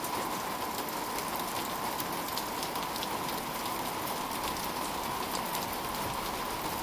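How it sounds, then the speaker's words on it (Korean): Rain drums on a plastic tunnel over a red-clay forest path lined with metasequoia trees, a dense, even patter that holds steady and fairly loud throughout. "황토길을 따라 걷다 보니 비가 점차 많이 내립니다"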